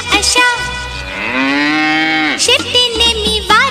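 A cow lets out a long, loud, drawn-out moo with shorter lowing calls around it, close and clear.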